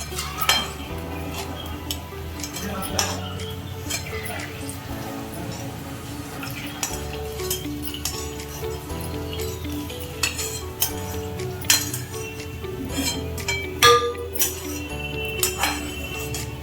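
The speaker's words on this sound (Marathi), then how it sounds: "त्यामध्येच आपण आता टाकतो हे काजू बदामचे फ्राय केलेले तुकडे" Ghee-fried cashew and almond pieces go into reduced milk for rice kheer in a heavy-bottomed aluminium pot. Repeated metallic clinks and scraping of a spoon against the pot sound close up, with soft stirring and a low background hum.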